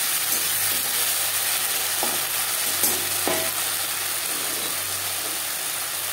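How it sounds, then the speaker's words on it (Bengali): Onions fry with ginger paste and green chili paste in a pan, giving a steady close sizzle with a few sharp stirring scrapes and clinks, no voices. "তিন 4 মিনিট পেঁয়াজ ভেজে নেওয়ার পর দিয়ে দেবো আদা বাটা, কাঁচা লঙ্কা বাটা।"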